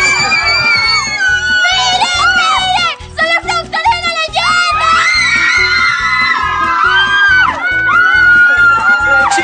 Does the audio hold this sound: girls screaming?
yes